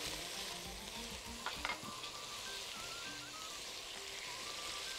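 Garlic frying in butter in a pan, a quiet continuous sizzle with a brief scrape of stirring near the middle, no voices.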